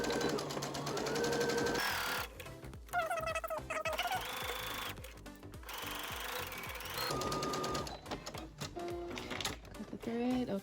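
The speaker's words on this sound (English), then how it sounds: "So we're just gonna sew at a 1/4 of an inch." A sewing machine stitches a quarter-inch seam on a fabric face mask, running in fast rattling bursts broken by brief stops, close and loud, mixed with a background music track.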